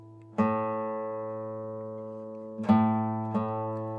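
One guitar string is plucked as a reference pitch and left ringing, then two more plucks of the string being tuned by ear follow close together, the notes sustaining and slowly fading, with no talking.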